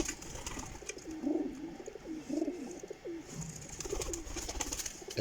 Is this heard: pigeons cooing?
yes